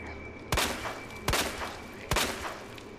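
Three sharp gunshots ring out in the Resident Evil 2 remake, evenly spaced about a second apart, each a loud crack trailing into a short echo over a low ambient hum.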